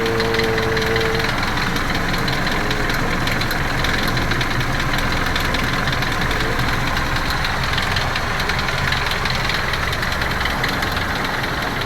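A car engine idles steadily, a continuous mid-low rumble with faint knocking, loud and close throughout with no talking.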